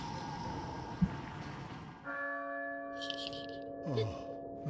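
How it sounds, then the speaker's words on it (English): Church bell in the survival horror game Resident Evil 4 rings out with a sustained, resonant tone after a brief thud, its hum lingering under brief game noises. "Ring the goddamn bell."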